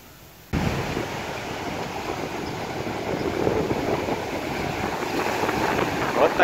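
Waves on the Mediterranean Sea along the Turkish coast roar in a steady, dense wash, with wind buffeting the microphone throughout.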